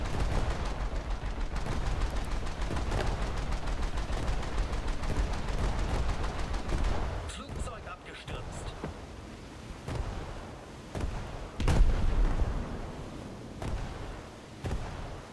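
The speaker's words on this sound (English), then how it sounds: "And my anti-aircraft guns are totally lighting everything up." Anti-aircraft guns fire in War Thunder: a dense run of rapid cannon shots at first, then after a lull separate bursts and single booming reports, loud and sharp with no talk over them.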